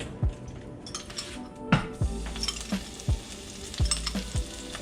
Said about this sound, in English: So now that the pan's heated up, you're gonna take 2 tablespoons of garlic.